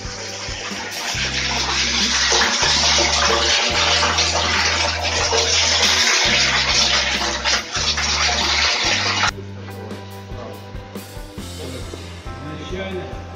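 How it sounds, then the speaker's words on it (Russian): Water pours in a loud continuous gushing rush into a brewery tank for about nine seconds, then stops, leaving quieter drips and clatter, with a low background hum throughout. "Пошла вода."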